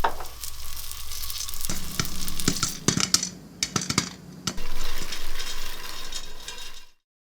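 Popcorn kernels, half a cup, popping in hot infused oil in a pot: a steady sizzle with sharp irregular pops and clusters of rapid cracks, close and loud, then a quick cut to silence.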